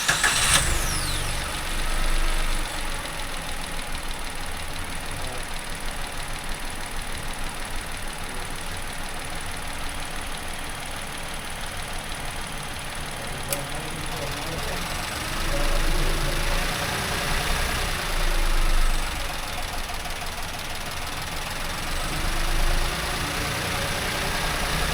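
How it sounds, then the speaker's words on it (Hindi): A Maruti Suzuki Swift VXi (O) CNG car engine idles steadily at close range, a low even rumble with slight swells, running for a long stretch with no voices. "चलिए स्टार्ट करते हैं इंजन एंड सुनते हैं इंजन नॉइस"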